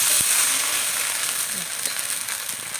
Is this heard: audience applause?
no